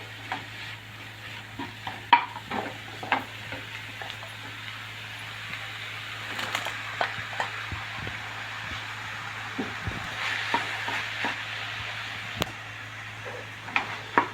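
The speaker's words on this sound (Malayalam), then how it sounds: "ഇനി നന്നായിട്ടൊന്ന് ഇളക്കി യോജിപ്പിച്ചിട്ട് നമുക്കൊന്ന് അടച്ചു വെച്ച് ഒന്നുകൂടെ ഒന്ന് വേവിക്കാവേ" Taro leaf and cooked toor dal stir-fry for a thoran is stirred in a pan. Scattered close scrapes and soft knocks sit over a low, faint sizzle and a steady background hum.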